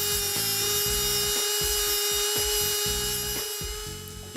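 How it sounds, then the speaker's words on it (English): Tungsten grinder sharpening a tungsten welding electrode, a high steady motor whine with the grinding cutting in and out in short repeated passes as the rod is fed in. "Then insert the tungsten into the grinder to sharpen."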